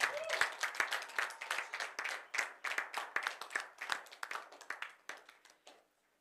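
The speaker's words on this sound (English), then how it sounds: "let's give her a round of applause." An audience applauds at the close of a 126-hour sing-a-thon marathon in Ghana. Dense clapping holds steady, then thins out and fades to silence near the end.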